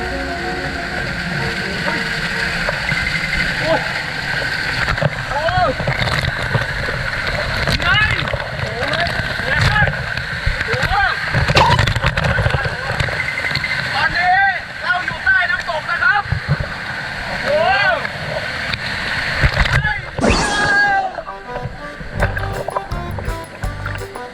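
Waterfall water pours and splashes steadily as people pass beneath it at Sao Noi waterfall in Prachinburi, Thailand, a loud continuous wash with voices calling and talking over it throughout.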